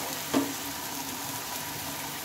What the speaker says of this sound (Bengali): একসঙ্গে অনেকগুলো ভাজা যায় বন্ধুরা, ওর জন্য আমি তাওয়াটা ব্যবহার করে নিয়েছি।